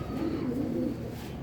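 A Teddy pigeon coos in low, soft, rolling murmurs, close by and steady for a moment with no other sounds.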